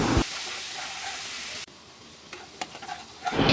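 Turmeric, red chili and coriander powder masala frying in a pan, a loud sizzling hiss that drops to a quieter steady fizz with a few stirring clicks, then swells again at the end.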